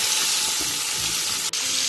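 Short ribs browning in hot oil inside a Ninja Foodi, a steady close sizzle and crackle of frying with a brief dip near the end, no talking.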